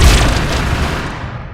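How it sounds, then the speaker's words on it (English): Banshee aircraft firing rapidly in a Halo-based game: a loud, sustained roar of booming blasts that runs the whole short burst without pause, no voices present. "Super rapid firing Banshee here."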